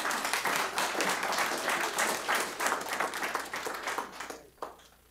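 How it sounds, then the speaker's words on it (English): Members of the public at a county commission meeting applaud after a speaker, a dense burst of clapping that thins and fades out near the end. "I know that everyone likes to clap, but our rules don't allow that."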